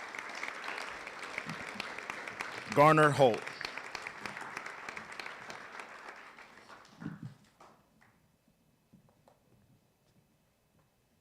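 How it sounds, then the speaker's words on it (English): An audience applauds at a student showcase as students come up, steady clapping with a brief spoken name over it midway before the applause thins out and fades to near silence. "let's go ahead and give them a round of applause as they come up"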